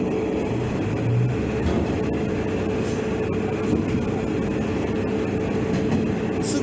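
Interior of a moving Japanese train decorated with anime advertising on the Noto Peninsula, with a steady rumble and rhythmic wheel clatter filling the carriage, occasional faint clicks and no talking.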